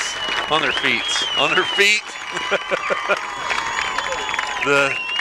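Crowd on their feet applauding and cheering after a high school eight-man football state championship game, loud clapping and cheers with a commentator talking over them throughout.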